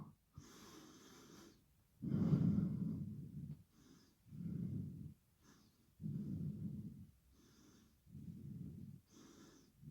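Slow, deep breaths during a yoga exercise, alternating longer inhales and exhales in a steady rhythm, close and fairly soft, with no talking over them.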